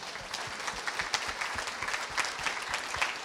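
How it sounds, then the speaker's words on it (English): Audience applause at a palliative care panel discussion, a steady dense wash of clapping from a crowd, fairly close and even throughout without voices. "A round of applause."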